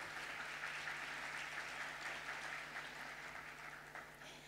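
An audience at a health-sector recycling workshop applauds as participants are called to the front, a soft, even patter of many hands heard from a distance over a low steady hum.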